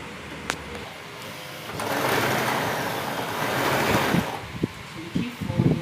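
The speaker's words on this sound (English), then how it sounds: "So I will take this to my sewing machine and start sewing." A sewing machine hems fabric for a dress, a close motor whir that builds to a steady buzzing run for a few seconds, then tapers off into light clicks and handling knocks.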